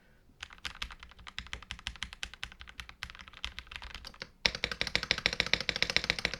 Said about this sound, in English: Let's go ahead and do a sound test right now. I'm gonna get the mic really close to the keyboard